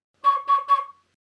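A Nuvo jFlute 2.0 played through its recorder-style whistle mouthpiece gives three short, clear breathy whistle notes on one steady pitch, close and alone, then silence.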